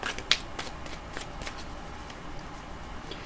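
A deck of tarot cards is shuffled in quick, soft riffling bursts with a sharp flick near the start, close and quiet, with no talking.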